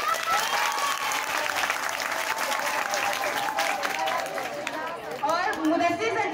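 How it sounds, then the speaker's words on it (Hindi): Enthusiastic audience applause at a Hindi-language stage event honouring a teacher, a dense wash of clapping with crowd chatter mixed in, steady and loud throughout. "तालियां।"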